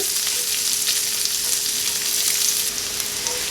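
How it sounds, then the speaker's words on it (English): Chopped onion sizzles steadily in a pan at the start of baked beans, a close, even frying hiss with faint stirring and no speech. "we're just going to saute that for a minute or 2 until our onions start to soften"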